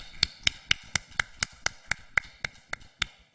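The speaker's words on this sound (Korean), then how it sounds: "박수로 우리 크게 하나님께 영광을 올려드립니다." A church congregation at a Sunday worship service claps together in a steady, even rhythm of about four claps per second. Each clap is crisp and separate, fairly faint and distant, with no talking over it.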